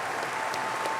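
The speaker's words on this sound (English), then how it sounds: "Let's give them a big round of applause." An audience at the Martin High School 2026 graduation ceremony applauds the graduating students, a continuous dense clapping from a large crowd that fills the full second.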